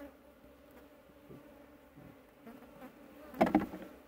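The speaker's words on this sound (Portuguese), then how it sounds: "tem um monte de abelha" Honeybees, Italian strain, buzz around an opened hive as a frame is lifted out: a steady droning hum throughout, swelling into a louder, closer burst near the end.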